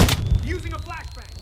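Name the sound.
flashbang grenade going off in a video game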